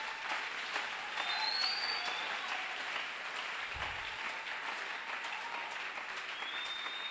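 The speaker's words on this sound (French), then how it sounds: "On peut acclamer." A church audience applauding steadily, a dense wash of clapping that holds even and moderately distant throughout, with a few faint whistles rising over it.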